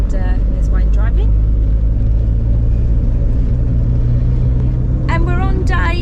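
Car driving along a road on Scotland's NC500 route: loud, steady engine and road rumble heard from inside the vehicle throughout, with people talking over it at the start and end.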